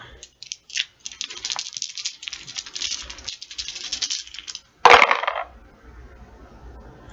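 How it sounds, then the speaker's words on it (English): Dice rattle briefly and then clatter onto a surface in one short burst, preceded by soft tapping and handling noises and followed by quiet room sound. "Now, let's roll the dice."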